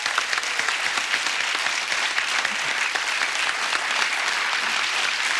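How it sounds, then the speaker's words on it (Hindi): A studio audience applauds the cast of Hungama 2 on a talk show, dense sustained clapping throughout, loud and steady. "एक बार जोरदार तालियां हंगामा 2 की सुपर टैलेंटेड कास्ट के लिए।"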